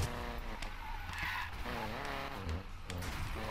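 A drag car in Need for Speed Payback struggles through a corner, tires skidding and squealing over a loud engine drone, with someone talking over it.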